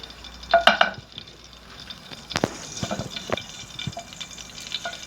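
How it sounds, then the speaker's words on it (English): Chopped onions go into hot red palm oil in a pan, giving quiet crackling sizzle and scattered stirring clatter with a sharper clink near the start, close up and fairly soft. "I put my chopped onions into the oil."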